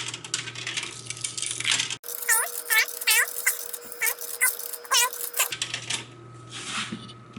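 Nickels dropped one after another into a single-price vending machine, each giving a bright metallic clink and a short rolling ring through the coin mechanism, close by, about eight in an uneven sequence.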